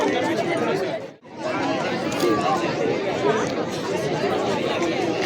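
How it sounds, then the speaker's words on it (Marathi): A dense crowd at Mumbai Point, waiting for sunset, fills the air with steady chatter from many voices, with one brief dip before the babble swells back. "आज एवढी गर्दी इथे फक्त सनसेट पाहण्यासाठी ही गर्दी सगळी सनसेट पाहण्यासाठी बघा कसली गर्दी आहे"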